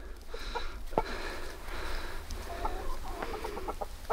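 Several chickens cluck and murmur nearby in short, scattered bursts over a low background hum.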